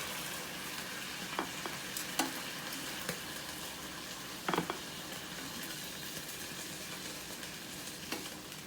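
Onions sautéing in a Power XL cooker, a soft continuous sizzle with occasional light clicks and scrapes from stirring, fairly faint and close.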